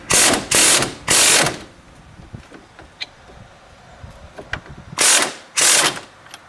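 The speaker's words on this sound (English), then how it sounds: "I'm going to use an impact wrench." An impact wrench loosening a penetrating-oil-soaked strut bolt on a 2001 Dodge Caravan Sport, firing in three close rapid bursts, then a quieter pause with small clinks, then two more loud bursts.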